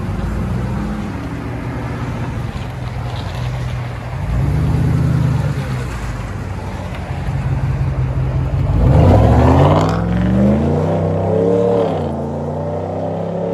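Ram 1500 pickup exhaust fitted with a Dynamax race bullet and resonator delete, a deep close rumble that swells in a few rev pulls, the last one the loudest, before easing back.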